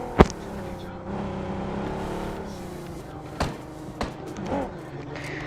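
Car engine droning steadily while driving in an action shooter video game, with a sharp gunshot-like crack near the start and a few brief knocks later, a voice talking over it.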